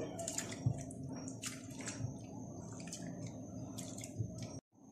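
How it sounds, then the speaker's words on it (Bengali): Soaked lentils, swollen to double size, being washed by hand in a bowl of water, with close sloshing, squishing and dripping splashes in an uneven rhythm before the sound cuts out abruptly at the end. "এখন এটা আমি খুব ভালো করে ধুয়ে পানি ঝরিয়ে নিব"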